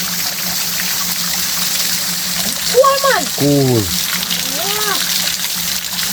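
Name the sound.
water trickling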